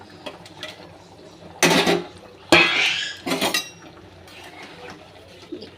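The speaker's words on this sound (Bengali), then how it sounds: "আমি ডিমগুলো দিয়ে ঢাকা দিয়ে দেবো।" Eggs go into a pot of simmering curry and a lid is set on top, giving two loud clattering metal bursts and a brief rattle amid quiet kitchen background.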